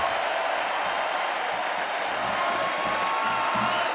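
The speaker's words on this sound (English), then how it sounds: "That's a Heisman chant from the student section." Stadium crowd ovation during a Louisville vs. Syracuse college football game in the Dome, a sustained roar of cheering and applause with a faint rhythmic chant from the student section underneath.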